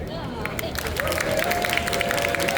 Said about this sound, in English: I can get applause when I compliment you.